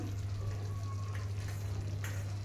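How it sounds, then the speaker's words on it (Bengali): Beaten sour yogurt hits a hot pan while cooking Bengali doi katla fish curry, giving a steady, close hiss of sizzling over a low constant hum, with faint stirring scrapes and no voices. "এবার ফেটানো দইটা আমি কিন্তু দিয়ে দিলাম"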